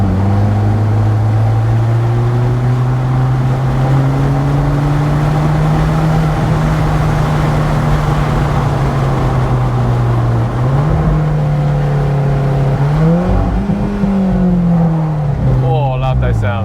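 An Alfa Romeo 4C Spider engine drones loudly and steadily from close by, its pitch climbing gradually, then dipping and rising again through a couple of quick shifts near the end.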